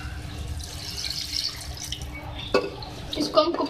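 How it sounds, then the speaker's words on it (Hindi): A glass of water is poured into browned beef curry in a cooking pot, a soft running splash and sizzle building up, with a couple of clinks toward the end. "अब मैं इसमें 1 गिलास पानी ऐड कर रही हूँ।"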